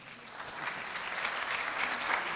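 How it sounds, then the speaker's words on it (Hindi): An audience at a festival talk claps steadily, a dense wash of applause that swells slightly over a couple of seconds. "सहमत हो तो तालियां बजाएं"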